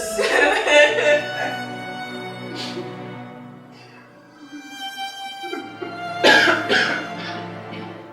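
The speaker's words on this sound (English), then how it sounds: "Did you just cough at my smoke?" A voice lets out a few coughs and throat-clearing sounds over a musical background, with a louder burst near the end.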